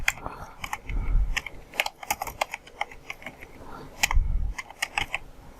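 Typing text on a computer keyboard while working in Adobe Illustrator, a close, irregular run of crisp key clicks with short pauses between bursts.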